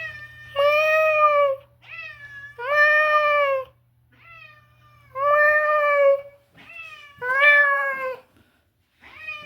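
A stray cat meows loudly and insistently, five or six drawn-out cries with short pauses between them, close by.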